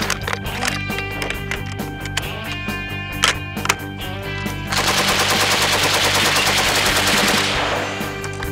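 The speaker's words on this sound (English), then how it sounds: "It is the belt-fed 308 light machine gun that the American military used" An M60 belt-fed .308 light machine gun fires outdoors, first in ragged bursts of loud reports, then a long sustained rattling stream of rapid shots that fills the space.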